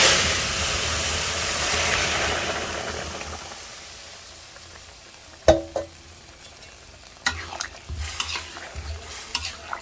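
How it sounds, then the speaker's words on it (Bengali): Vegetables for a vegetable stew are poured into hot oil with black cumin, giving a broad, loud sizzle that gradually settles, then several clinks and scrapes of a utensil against the pan. "লাল হয়ে গেছে, এখন সবজি ঢেলে দেবো।"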